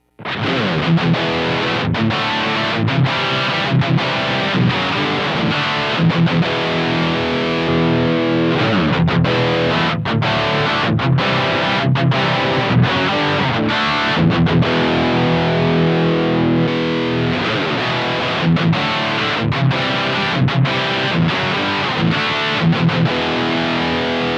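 Heavily distorted electric guitar through a Two Notes ReVolt amp, switching between channels, plays continuous chugging riffs and chords, loud and dense with rhythmic palm-muted stops.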